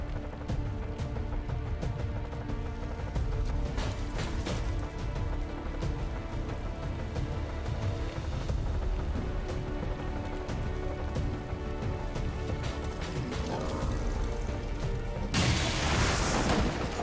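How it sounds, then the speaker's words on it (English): Heavy booming blasts and crashing impacts from a Shredstorm cannon in XCOM 2 fill a dense stretch of gameplay, loud and sustained, ending in a bright burst of debris noise. "Let's have Cazador hit these guys with her Shredstorm cannon"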